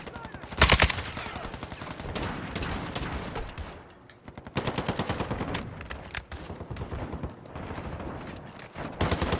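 Rapid bursts of Kastov 762 automatic rifle fire in Modern Warfare 2, loud and close, coming in repeated strings of shots separated by short pauses.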